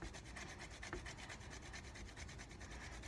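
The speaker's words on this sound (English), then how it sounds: "when you're cooking to grate the nutmeg like this." Whole nutmeg rubbed back and forth on a small grater in a kitchen, a quiet, steady rasping scrape in quick repeated strokes, close up with no talking.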